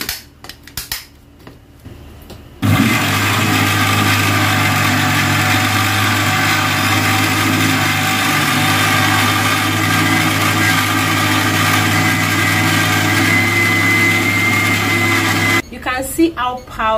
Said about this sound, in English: Powdered, the blender has crushed it for me.